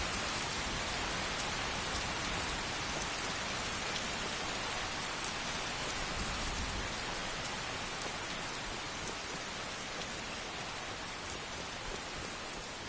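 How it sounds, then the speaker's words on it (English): Heavy, steady rain falls in Skyrim, a dense unbroken hiss of drops that stays loud and even from start to finish, with no voices. "Finally, the rain stopped."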